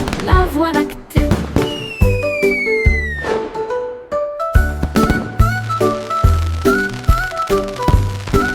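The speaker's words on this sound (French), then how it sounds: "Les feux d'artifice de Jack ont illuminé la voie lactée" Fireworks sound effects in a children's song, sharp bursts and crackles repeating in rhythm over bright tuned music and a rising whistle, loud and up front.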